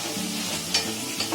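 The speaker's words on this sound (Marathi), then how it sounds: "कांदा बघा एकदम मीडियम गॅसवर आहे ना चांगला फ्राय करून घेतलाय" Finely sliced onion frying on medium heat in a pan for soybean keema, with a steady soft sizzle and a couple of brief scraping stirs near the middle and end.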